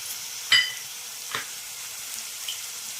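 Ginger garlic paste and turmeric frying with onion paste in a pan for Andhra-style mutton spleen fry, giving a steady soft hiss with two short scraping clicks of a spoon; no speech.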